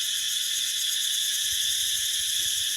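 A loud, unbroken chorus of cicadas shrills in a quiet rural spot near a water-collecting place, with steady buzzing and no voices over it.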